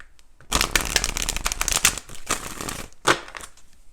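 Tarot cards are shuffled up close in quick riffling bursts with brief pauses between them and no voice over them.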